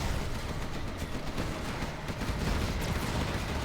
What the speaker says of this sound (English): Nuke cannon fires again